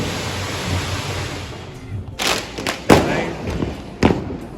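Several sharp Diwali firecracker bangs pop at uneven intervals over a steady hiss of background noise, with voices faintly present.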